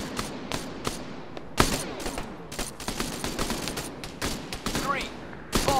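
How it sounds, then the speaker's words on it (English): Arma 3 infantry firefight, with loud rifle and machine-gun bursts cracking repeatedly at close and middle distance, some shots near and sharp, over continuous battle noise. "Enemy fire! Enemy fire!"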